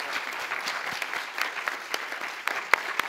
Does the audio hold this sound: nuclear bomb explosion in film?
no